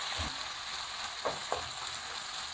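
Tomatoes dropped into a hot pan of frying hotdog for Valenciana, a steady loud sizzle with a few sharp spatters and stirring scrapes, close up and without talk.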